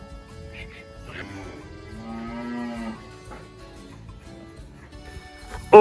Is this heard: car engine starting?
no